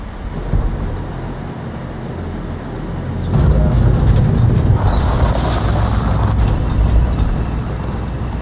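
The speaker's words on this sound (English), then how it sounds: "That is a tank." A tank in the video game Metal Gear Solid: The Twin Snakes rolls forward with a dense mechanical rumble and clatter that swells abruptly about a third of the way in, then holds steady and loud with no talking.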